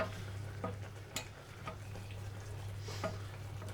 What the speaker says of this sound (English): Keep stirring until it starts to evaporate and goes thick